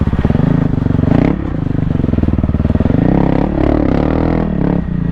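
A 2024 Kawasaki KLX300R dirt bike engine running close and loud on a leaf-covered cross-country trail, a pulsing throttle note that rises and falls with clatter and scraping mixed in.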